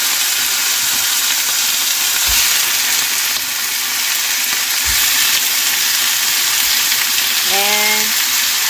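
Pork frying in a pan with browned garlic and onion gives a loud, steady sizzle and hiss throughout, with a few soft stirring knocks and a brief voice near the end.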